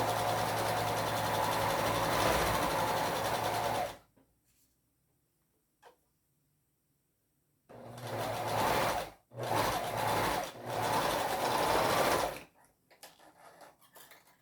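A sewing machine stitches fabric pieces for a Christmas teddy bear, giving a loud close whir for about four seconds, then silence, then several more short bursts of stitching.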